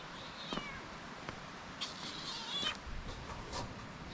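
Cat meowing outdoors, several short, fairly faint meows spread across a few seconds over low background noise.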